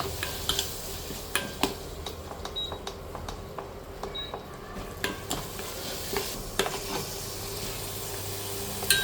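Vegetables sizzle in oil until the oil separates for mendu vada, giving a continuous close crackle and fizz punctuated by light clicks and clinks of a stirring spoon against the pan, with no speech.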